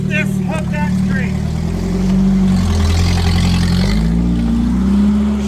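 A first-generation Toyota 4Runner with solid axle swap, 37-inch tires and 4.88 gears climbs Black Mountain's Lions Den trail, its engine droning and rising in steady revs, with voices talking over it near the start.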